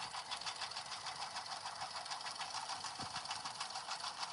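An embroidery sewing machine stitches basic runs at a raised speed, making a steady, rapid, rhythmic mechanical chatter that runs close and continuous throughout, with no voices.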